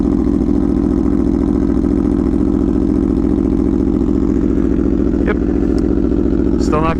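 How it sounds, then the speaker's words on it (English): An Aprilia Tuono V4 1100 Factory, an Italian V4 motorcycle, idles loudly and steadily after a cold start, its deep lumpy rumble continuous and close throughout, with a brief rising rev near the end. "Let us mark this occasion with a cold startup of a beautiful, glorious Italian V4."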